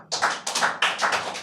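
Audience applause, a brief burst of a few people clapping close by in quick, uneven claps for about a second and a half.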